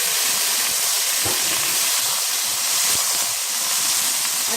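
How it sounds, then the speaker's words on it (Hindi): Ginger garlic paste hits hot oil in a wok with a strong, continuous close-up sizzle and hiss, with faint stirring scrapes underneath. "अब उसी कढ़ाई में हमने थोड़ा सा तेल रहने दिया है और हम इसमें डाल रहे हैं अदरक लहसुन का पेस्ट।"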